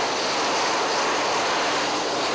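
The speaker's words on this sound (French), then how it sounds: "Sous l'œil attentif des pistards, les avions reprennent vie." Military jet engines spooling up on an airfield flight line, a steady, loud broadband roar with hissing high end that holds constant throughout, no voices.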